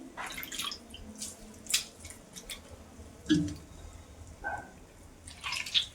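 Raw potato being squeezed and rinsed by hand in a bowl of water while making jhuri aloo bhaja, giving scattered soft drips, splashes and squishy sloshes with quiet gaps between them.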